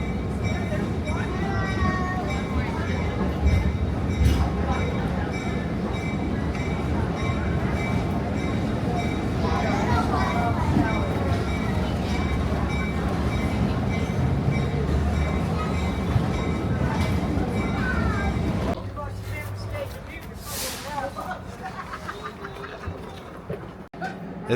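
A Great Smoky Mountain Railroad train rolls back toward the station, heard from aboard as a steady rumble and clatter of wheels on track. The noise drops suddenly near the end as the train slows, with voices around.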